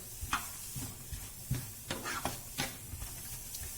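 Onion and capsicum fry in a pan on a heater for a pizza-flavoured sandwich, giving a faint, low sizzle broken by soft scraping and clicking stir strokes at irregular intervals, with no talking.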